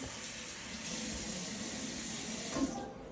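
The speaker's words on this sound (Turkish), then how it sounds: "Evet şimdi Sabunsuz yıkayacağım." Running tap water splashing into a sink while a face is washed without soap, a steady close hiss of flowing water with a brief louder splash near the end.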